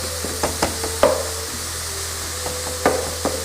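Garlic and ginger sauteing in a salted pan, a steady low sizzle with a handful of sharp utensil knocks and scrapes spaced irregularly across the stretch, close by with no talking.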